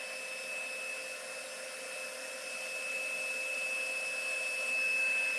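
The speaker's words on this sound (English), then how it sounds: "Okay, so I'm heating up and I'm going to melt the embossing powder." A heat tool blows hot air to melt embossing powder on a stamped card, producing a steady loud whirring hum with a high whine that swells slightly toward the end.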